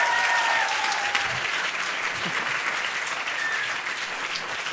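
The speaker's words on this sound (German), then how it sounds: "Ein riesiger Applaus, Valerie." Sustained applause from a science slam audience in the SO36 club in Berlin, steady and fairly loud throughout, with no one speaking over it.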